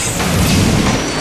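A drag race car exploding at a North Carolina drag strip, a loud, rumbling boom with a heavy low-end roar sustained over about a second.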